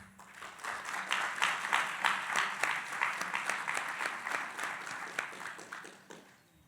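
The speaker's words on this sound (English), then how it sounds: "Round of applause." Applause from an audience at a youth excellence awards ceremony in a large exhibition venue, many hands clapping steadily for several seconds, swelling then tapering off at the end, moderately distant.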